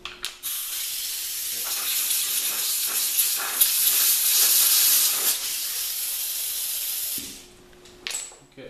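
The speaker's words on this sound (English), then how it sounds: "Too much contact cleaner around seals and stuff you don't want to do, but just cleaning out the threads here where the bolt goes into the shift shaft" Contact cleaner sprayed onto the threads of a motorcycle shifter bolt hole, a loud steady aerosol hiss lasting around seven seconds, followed by brief handling clicks.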